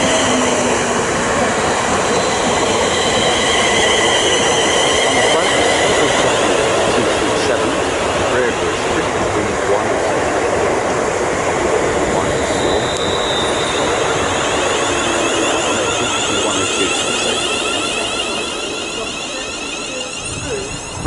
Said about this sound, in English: approaching now is the terminating service from London Euston. It's got 378213 with a poppy on the side